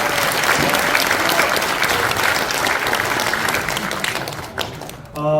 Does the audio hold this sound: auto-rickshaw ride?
no